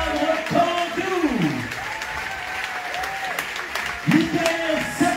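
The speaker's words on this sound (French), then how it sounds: "On peut applaudir très fort" Audience at a comedy festival applauding the evening's artists, continuous clapping under an announcer's voice that carries across the whole stretch.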